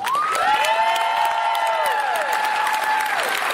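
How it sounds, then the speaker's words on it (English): Audience at a fair event breaks into applause with cheering and high whoops, a dense, loud, sustained round of clapping lasting several seconds. "Could you please give her a round of applause?"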